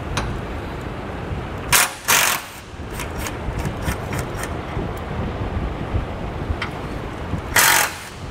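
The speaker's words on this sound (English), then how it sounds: "we're going to take a half inch socket and we're going to remove these two bolts" A half-inch socket tool works bolts loose beneath a 2021 Chevrolet Colorado during a trailer hitch install, close mechanical clicking and ratcheting bursts over a steady background hum.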